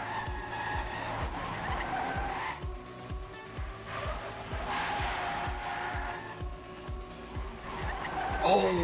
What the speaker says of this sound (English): Ooh, now Tween gonna clip the wall in the start.